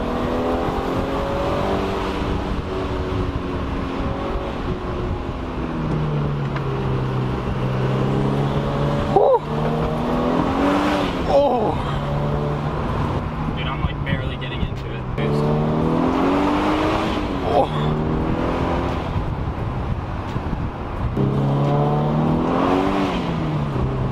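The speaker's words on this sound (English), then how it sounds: "There's good boost noise off the trees. That's why that sounded so good." Scion FR-S engine revs repeatedly with rising and falling pitch sweeps and turbo boost noise, heard from inside the car under ongoing conversation, with a dog barking briefly.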